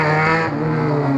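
A car engine fitted with a replaced exhaust revs loudly and close, a sharp raspy growl that drops in pitch partway through and settles into a steady drone.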